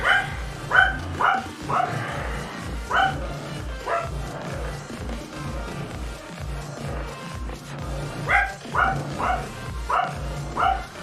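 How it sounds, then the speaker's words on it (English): A dog named Henry barks in repeated sharp bursts with short yips between them, fairly close and loud, over a steady low rumble. "Dog barking. Dog barking. Why you bark, Mr. Dog?"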